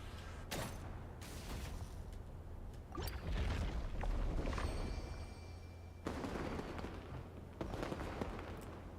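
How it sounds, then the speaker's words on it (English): Fireworks bursting in the video game Genshin Impact, a run of loud booms and crackling pops spread across the scene amid a steady low rumble, with no voices. "We freaked out over fireworks?"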